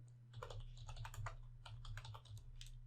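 Python code being typed on a computer keyboard, with a steady run of quick, close key clicks in uneven bursts over a constant low hum.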